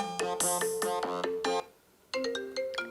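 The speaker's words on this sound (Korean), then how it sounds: "이거는 옛날 아이폰 그 전화 벨소리" An old iPhone ringtone plays loud and clear on its own: a bright melodic phrase of bell-like notes repeats, pauses for about half a second, then starts again.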